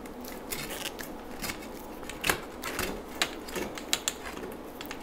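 A hand reamer twists inside the cut end of a conduit pipe, scraping off burrs with a series of short, close, crisp metallic rasps and clicks in an irregular rhythm.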